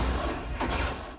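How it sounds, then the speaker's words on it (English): A cannon shot built as a sound effect for a sailing-ship battle film gives a dense, loud, sustained boom that fills the whole short span, with a brief burst of added crackle midway. "And so the beginning of that is the firing from the gun."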